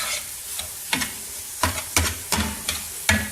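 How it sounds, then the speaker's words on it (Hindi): Egg, tomato and chili frying in a pan, a steady sizzle broken by repeated scraping stirs at an uneven rhythm, close and moderately loud. "इसको अभी थोड़ा सा और फ्राई कर लें तो ज़रा अच्छा हो जाएगा"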